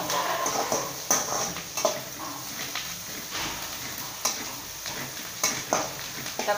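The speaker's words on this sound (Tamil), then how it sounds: "வெங்காயம் நல்லா வணங்கிட்டுருக்கு." Onions fry and soften in a pan for chilli kothu chapathi, a steady low sizzle broken by repeated scraping and clinking as a spoon stirs against the metal, close and without talk.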